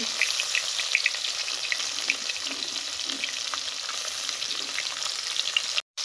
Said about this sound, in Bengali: চিংড়ি মাছগুলো হালকা ভাজা হয়ে গেছে, এবার আমি তুলে নেব।